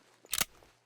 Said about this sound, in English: Let's do the tactical reload, make her work for it.